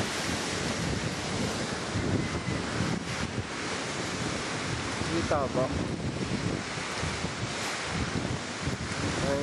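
Sea waves washing ashore near a fishing boat on a windy coast, a continuous roar of surf under heavy wind buffeting, with a brief voice speaking over it.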